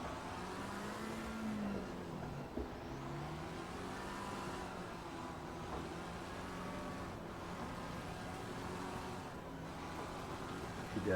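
A race car engine in a sim racing video game drones steadily at a quiet level, its pitch rising and dipping as it revs and accelerates, with no talk over it.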